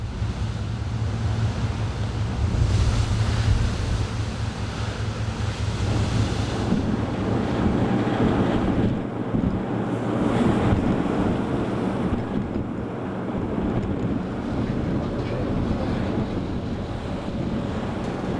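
Roaring wind and crashing waves on open sea during a 75 mph storm off Ushant, a continuous loud broadband rush with surging swells and buffeting wind on the microphone, no voices.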